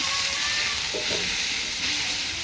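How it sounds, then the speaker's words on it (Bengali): Kalai greens sizzle in hot oil with browned onion and garlic, a loud, even hiss of frying that holds throughout with no pauses. "আমি এ পর্যায়ে এখন শাকটা তেলানি দিয়ে দেবো।"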